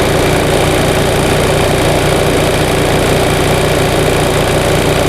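A 1945 Onan generator engine runs steadily at idle close by, a constant low mechanical drone with even vibration and no pauses or voices.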